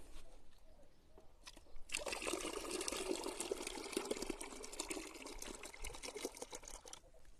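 Water is poured off tomato seeds for several seconds, a broad splashing rush that starts abruptly and runs at an even, close level.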